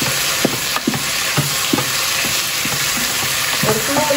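Ingredients are stirred together in a hot pan along with ground mint and coriander paste, making a loud, continuous sizzle broken by regular close spoon scrapes against the pan.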